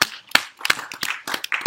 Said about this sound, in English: Or you can clap.